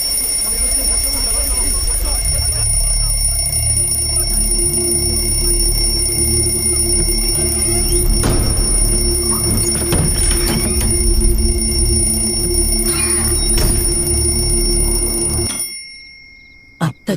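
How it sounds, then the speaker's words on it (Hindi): An alarm rings loudly and continuously for about fifteen seconds with a steady, buzzing tonal quality, then cuts off abruptly, leaving near silence broken by a couple of faint clicks. "रोज रात 8 बजे उसका अलार्म बजना"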